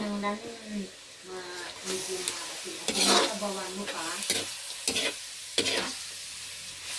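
Rice noodles sauté in a hot pan for a Filipino province-style dish, with sizzling and frying hiss broken by repeated scraping and stirring strokes, while people talk over the cooking close by.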